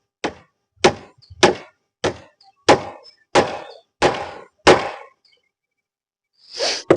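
A hammer strikes wooden shuttering planks at a lintel casting site: eight sharp, close woody thwacks in steady succession, then a pause and a brief scraping rustle.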